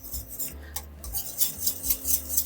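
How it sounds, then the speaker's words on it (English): Cream cheese mashed with a wooden spatula in a bowl, close rhythmic rubbing and scraping strokes, soft and repeated. "I'm just gonna mush this up with my wooden spatula"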